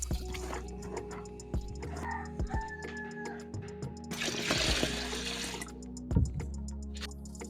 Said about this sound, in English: I'll now go ahead and wash the musk melon seeds and blend